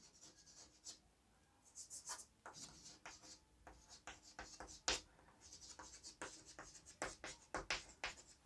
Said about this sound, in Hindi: इसको हम यहाँ पे लिखते हैं